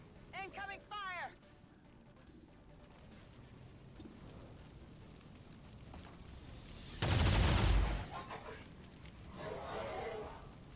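In the XCOM Long War video game, incoming gunfire lands as a loud, close burst of several seconds, then a fainter burst follows. A voice talks over the quiet stretches around it.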